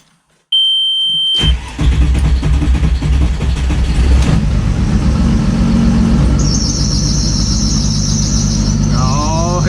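A car engine cranks and catches with a loud roar, then runs on steadily and loudly, while a slipping belt with no tensioner screeches in a high, wavering squeal that rises near the end.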